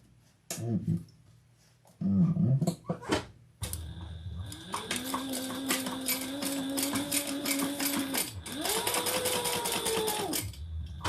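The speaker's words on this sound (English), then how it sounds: "now we're going to fold it over and stitch all the way around" A sewing machine stitches around the edge of a small fabric bag, running steadily and close in two long bursts after a few brief clicks and handling noises.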